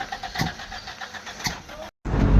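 A car engine cranks and stutters without catching in two short bursts, dropping out briefly before a louder, rougher rumble closes the moment; the vehicle had been running well just before suddenly failing to start.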